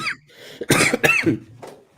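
A person coughs a few times in quick rough bursts, close and fairly loud, with short pauses between them.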